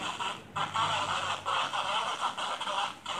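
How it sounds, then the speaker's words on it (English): FM radio static crackles from a feature phone tuned to 92.1 with its antenna out, a hissy, pulsing noise with brief dropouts that comes in uneven waves over a few seconds. "And you probably hear it's static."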